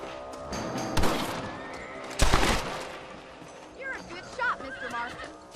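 Horses in the Red Dead Redemption video game give a couple of loud, close snorting whinnies followed by softer neighs, set against busy game ambience with a voice talking in the background.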